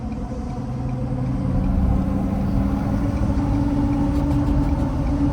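A 2017 Ford 6.7 Powerstroke diesel with a failing turbo idles nearby, then is lightly revved to a fuller, steady hum, with a faint fluttering whoosh from the turbo's cycling vanes.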